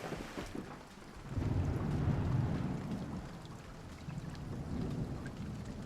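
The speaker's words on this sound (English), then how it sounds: "And now it's raining even heavier." Heavy rain and thunder in the farming simulation game Farm Manager World, a steady hiss of downpour with a low rolling rumble swelling and fading, fairly quiet with no voices.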